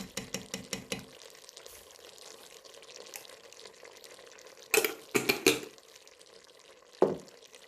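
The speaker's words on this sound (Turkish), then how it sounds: "karıştırıyorum" A spoon stirs fresh green beans cooking in a pan, giving quick scraping clatters at the start and again later, faint sizzling underneath, with no voices.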